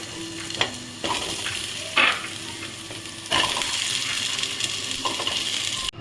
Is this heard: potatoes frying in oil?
yes